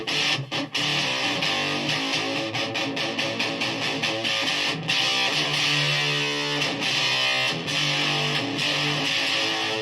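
Guitar through an Orange Fur Coat octave fuzz pedal, gritty saturated notes with a buzzing upper octave and choppy rhythmic stabs, loud and close.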